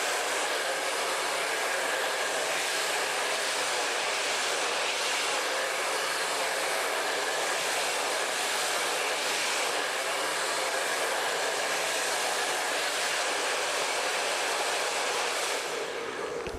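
A hair blow dryer roars continuously at close range while drying curly hair, a loud, steady airy rush that holds unchanged throughout and fades slightly only at the very end.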